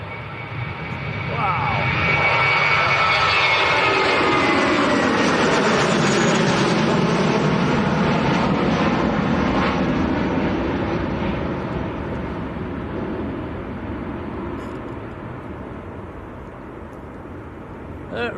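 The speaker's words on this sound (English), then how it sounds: "Turkish to Istanbul A321. Rotating quite early." Turkish Airlines Airbus A321 taking off from Manchester Airport, a loud, broad engine roar swelling over a few seconds and holding strong before slowly easing, with a brief exclaimed voice near the start.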